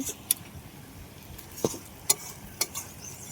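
Goat meat curry with potatoes being stir-fried in a pan, a low steady sizzle broken by occasional light scrapes and taps of the spatula against the pot.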